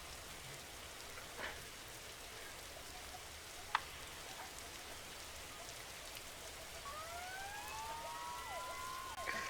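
Faint wailing ambulance siren tones in the video game Emergency Response: Liberty County rise and fall near the end, distant beneath a constant rain-like hiss with a couple of small clicks.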